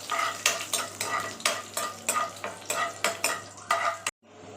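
Dried red chillies and curry leaves frying in a pan, with a quick, regular run of about a dozen spatula strokes clattering against metal over a sizzle, stopping abruptly near the end.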